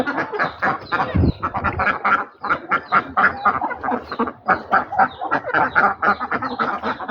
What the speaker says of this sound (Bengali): আমার হাঁসগুলো নিজে নিজে বের হয়ে গিয়েছে।